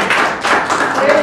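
Applause from a classroom audience for a female classmate: a brief burst of many hands clapping at once, continuous and fairly close, lasting just over a second.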